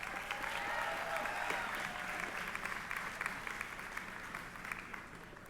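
Audience applauding at a high school commencement ceremony, a sustained, even roll of many hands clapping, moderately distant and slowly tapering over several seconds.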